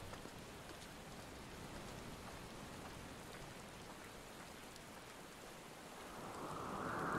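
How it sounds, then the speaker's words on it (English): Rain falling in Final Fantasy XIV, a steady soft hiss of drops that continues evenly and grows a little louder near the end, with no talking. "Wonder if the rain is intentional here."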